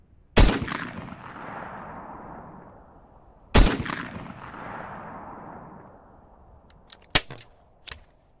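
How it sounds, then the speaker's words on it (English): Two sharp, loud video game gunshots spaced about three seconds apart, each followed by a long echoing decay, then a few quicker, fainter cracks near the end. "I'm just going to shoot at everything now."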